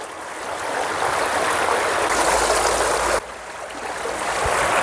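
Warm thermal spring water flows at the travertine pools of Pamukkale in Turkey as a loud, steady, close rushing wash that runs continuously without talk.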